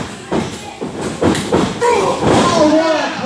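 A wrestler takes a clothesline during a Mountain Championship Wrestling match, marked by several heavy thuds and slams on the ring under excited commentary and crowd noise.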